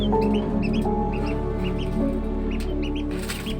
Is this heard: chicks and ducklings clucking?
yes